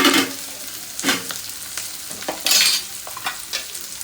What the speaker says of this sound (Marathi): तर मी पहिला कांदा भाजून घेते.